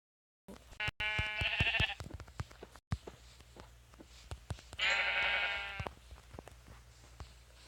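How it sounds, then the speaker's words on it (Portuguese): Two clear sheep bleats sound in a survival video game, one early and one later, each a wavering nasal call over quiet clicks and faint game noise. "Ovelha, ainda bem."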